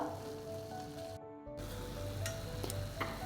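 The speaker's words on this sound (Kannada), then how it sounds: "ಹೀಗೆ ಸ್ವಲ್ಪ ತುಪ್ಪ ಜಾಸ್ತಿ ಹಾಕಿ ತುಪ್ಪದಲ್ಲೇ ಕೂಡ ಅದನ್ನು ಫ್ರೈ ಮಾಡ್ಕೊಳ್ಬೋದು" Grated carrot fries in ghee for carrot halwa, giving a steady, close sizzle with faint stirring, broken by a short silent gap before the sizzling resumes.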